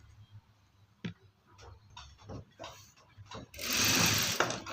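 Sewing machine stitching a chudidar neck, with a steady mechanical rattle building loud near the end after quieter clicks and handling noises.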